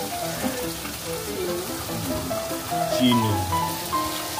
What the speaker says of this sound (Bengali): পোস্ত বাটাটা আমরা গরম তেলে ছেড়ে দিয়েছি।